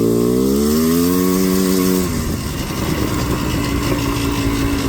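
A four-wheeler ATV engine is held at full throttle, a loud, close, buzzing roar whose pitch climbs steadily for two seconds before settling into a rough, even drone.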